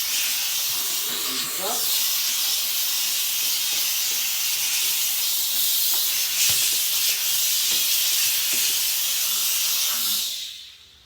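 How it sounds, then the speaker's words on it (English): A Wagner Spraytech 915e steam cleaner blasting steam across a sink, a loud, continuous close hiss that holds steady for about ten seconds before cutting off, with a brief spoken remark underneath. "It steams off all that soap"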